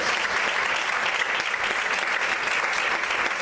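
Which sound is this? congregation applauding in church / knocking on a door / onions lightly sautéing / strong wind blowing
congregation applauding in church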